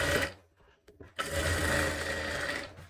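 A sewing machine stitches a folded, matched seam on a katori blouse, with a short burst, a pause with a tiny blip, then a longer continuous run, loud and near.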